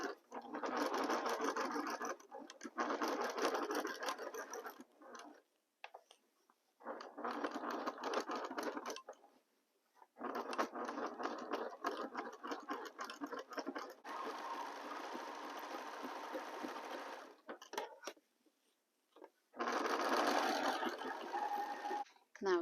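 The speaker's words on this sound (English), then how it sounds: "So now we are going to sew this first part of the hat" A sewing machine stitches a fabric snowman hat in several long, steady whirring runs separated by short pauses, close and fairly loud, with a few handling taps between the runs.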